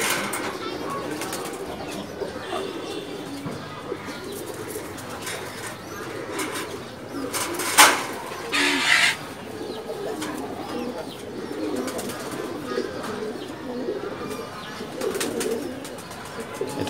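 Pigeons in a loft coo softly against a murmuring background, with a brief burst of wing flapping midway.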